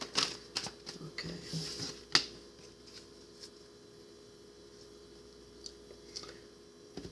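A deck of tarot cards being shuffled, soft riffling and flicking with a few crisp card snaps early on, then quieter intermittent handling, close up and without talk.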